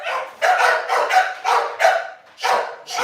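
An American bully puppy barks in a quick run of about seven sharp, close, fairly loud yaps with short gaps between them, and no voices alongside.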